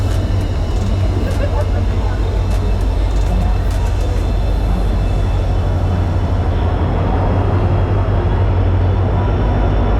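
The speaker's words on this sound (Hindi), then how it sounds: "ट्रेन आ गई, चलो चलो" A train rolls into a station on the route to the Chenab Bridge, a loud, continuous low rumble with rattling that fills the whole stretch, with voices talking over it.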